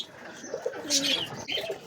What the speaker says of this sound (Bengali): তো দেখো আমাদের একটা গিরিবাস কবুতর